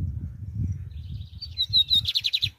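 A lined seedeater (bigodinho) sings outdoors after the rains, a short high phrase of thin whistled notes ending in a quick trill of rapid chirps, fairly close over a low rumbling background.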